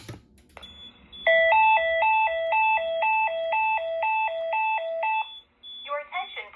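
Notifier VEC 25/50X voice evacuation panel with an AFP-200 fire alarm system sounding a loud alternating two-tone severe weather alert, a rapid repeating high-low beeping pattern after an initial steady tone, followed by the start of speech.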